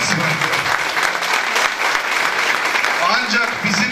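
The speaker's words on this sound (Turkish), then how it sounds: "Onlar için de kocaman bir alkış alalım." Loud, dense applause from a crowd at a district party congress, continuous and steady throughout with some voices mixed in.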